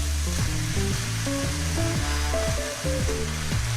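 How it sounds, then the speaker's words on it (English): Cabbage sizzles steadily in a chicken stir-fry pan, a constant hiss of frying that runs under louder background music with a stepping melody. "now we're going to add in our cabbage."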